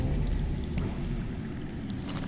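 Underground water flowing in the Game of Thrones video game, a quiet, steady low rush and gurgle with no talk over it.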